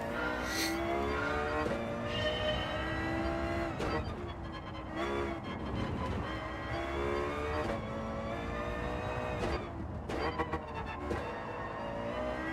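A Lexus LFA in the racing game Gran Turismo 7 revs hard through rising and falling gear changes, its engine howl continuous and loud with sharp shifts and occasional tire squeal.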